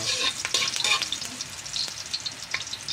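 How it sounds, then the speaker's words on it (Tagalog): Ginger sizzling loudly in a hot pan while being stirred, a dense continuous frying hiss with scraping strokes of a utensil, close and without talk. "laya muna para mapritong masyado yung laya. Tapos kiwar-kiwar."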